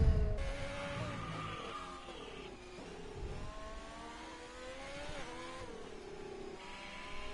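A Ferrari race car engine in a racing video game revs and shifts through rising and falling pitches, loud and close, accelerating steadily with gear changes.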